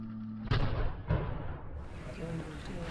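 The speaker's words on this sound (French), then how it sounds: "des coups de canon ont été tirés dans tout le Royaume-Uni en l'honneur du nouveau souverain" Cannon salute fired across the United Kingdom in honour of the new king, Charles III: two heavy booming reports about half a second apart, followed by rumbling and background noise.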